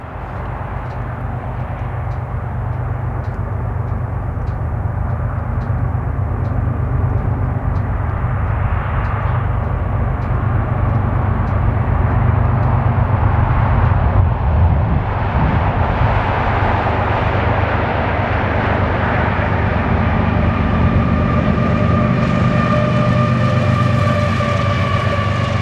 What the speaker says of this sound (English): This train turned out to be an empty ethanol train.